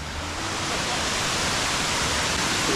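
A waterfall near Luang Prabang, Laos, pours in a steady, dense roar of rushing water that holds at an even level throughout, with no voices over it.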